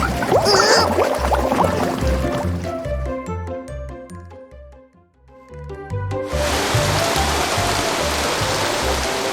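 Water pouring down like a waterfall in a children's storybook art program, a broad steady rushing wash that drops away briefly while a plinking melodic tune plays, then surges back loud.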